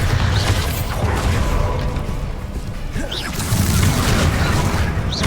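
Hogwarts Legacy spell-casting effects fire in quick succession: booming blasts, whooshes and crackling impacts in a dense, loud, continuous mix with no clear pauses.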